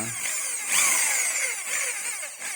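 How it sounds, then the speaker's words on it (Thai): A power drill bores into a brake pad while the pad is being cut and fitted for a vehicle brake job, giving a steady high whine with grinding rasp that rises and dips in pitch, fairly close and with no talking. "ต่อไปเป็นการเจาะ"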